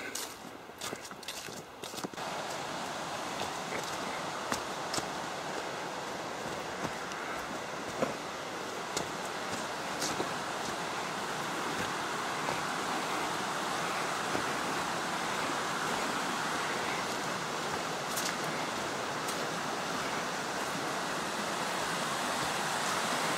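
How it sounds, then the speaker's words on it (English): Water rushing steadily at Falling Water Falls on the back of Signal Mountain, a continuous broadband roar that stays even and fairly close throughout, with a few brief footstep-like clicks early on. "I can already hear the water running."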